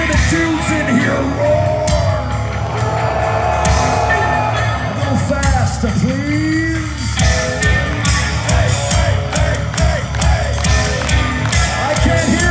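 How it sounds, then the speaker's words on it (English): Concert crowd of men roaring and yelling at a show in Dallas, Texas, a dense, continuous loud mass of voices throughout with shouts rising and falling. "Now let me hear the dudes in here roar."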